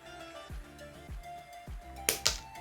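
Scissors snip the stems off maple leaves in a craft setting, giving a few soft, evenly spaced cuts followed by two sharper, brighter snips near the end, close and quiet.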